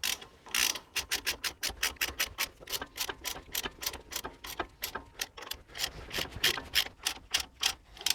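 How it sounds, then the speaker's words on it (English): A ratchet with a 13mm socket clicks in steady, rapid bursts while tightening bolts that press the rear axle flange apart on a Toyota Landcruiser 70/80/105 Series, loud and close with brief pauses between strokes. "as I do up those bolts, it's starting to push the flange apart"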